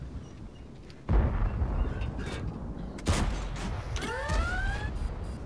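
A T-62A tank's main cannon firing in World of Tanks: two heavy, booming shots a couple of seconds apart over steady engine rumble, followed by whistling, rising tones.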